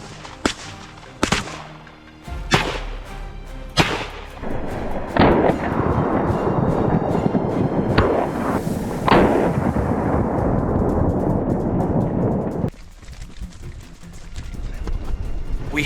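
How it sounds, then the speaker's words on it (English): Gunshots ring out while hunting massive wild boars, several sharp loud cracks spaced a second or so apart at first, then heavy continuous rumbling and commotion with occasional further shots, ending in quieter ambience. "As soon as they entered our line of fire, we pulled the trigger."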